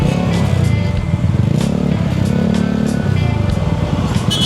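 Motorcycles revving and droning through busy street traffic in Quiapo, Manila, engines rising and falling in a constant close roar with clattering road noise layered over it.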